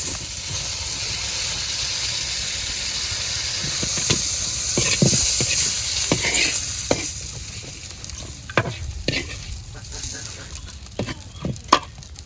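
Pointed gourd (potol) fries in a pan in a village kitchen, giving a loud, continuous sizzle broken by sharp scraping knocks of stirring that come more often toward the end.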